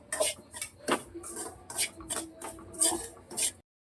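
Semolina dry-roasting in a pan, stirred with a utensil: repeated scraping, rasping strokes against the metal in an uneven rhythm, close and fairly clear with no talking.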